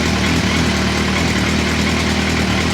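A Suzuki Bandit 1250 motorcycle engine idles steadily and loudly, with a constant low throbbing rumble and no talking.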